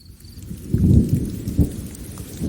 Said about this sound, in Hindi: रात को बहुत तेज बारिश शुरू हो गई।